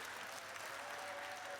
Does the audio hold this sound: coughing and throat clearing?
no